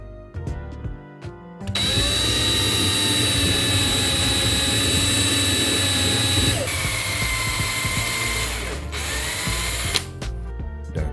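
A power drill whines loudly and steadily for several seconds while drilling into acrylic, its pitch dipping briefly as it bites in, then spins down near the end.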